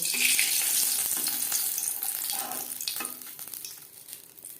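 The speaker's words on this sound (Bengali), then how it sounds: "দিয়ে দিলাম দুটো শুকনো লঙ্কা লো ফ্লেমে লঙ্কা ক্রিস্পি করে ভেজে নেব" Two dried red chillies fry over a low flame in mustard oil, giving a close hissing sizzle that is strongest at first and gradually fades, with light stirring clinks.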